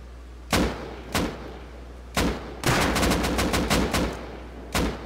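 Gunfire in the survival game Rust: sharp single shots spaced apart, then a rapid run of about eight shots in quick succession, then one more, loud and close over a low steady hum.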